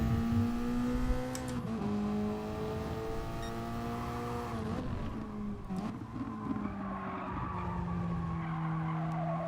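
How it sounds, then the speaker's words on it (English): Car tyres squealing and skidding in a racing video game, long sustained screeches over a steady engine drone, sliding pitch repeatedly through corners during a qualifying lap. "Try and minimise my skidding"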